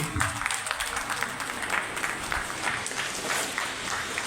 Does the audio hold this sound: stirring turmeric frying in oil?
no